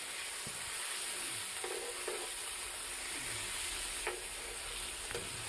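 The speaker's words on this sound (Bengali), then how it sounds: "খুন্তি দিয়ে নাড়াচাড়া করার পরে পেঁয়াজ রসুনগুলো একটু ভাজা ভাজা হয়ে গেলে" Onion and garlic paste frying in a pan while a spatula stirs it, a steady close sizzle broken by scraping strokes, for a home yogurt katla fish curry.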